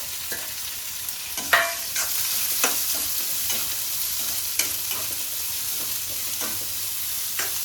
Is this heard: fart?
no